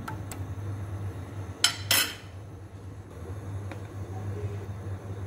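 A spoon stirs sambar powder into a radish and green gram sambar in a cooking pot, giving two or three sharp metallic clinks near the middle over a steady low kitchen hum.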